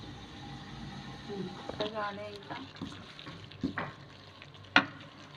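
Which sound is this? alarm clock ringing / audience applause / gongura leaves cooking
gongura leaves cooking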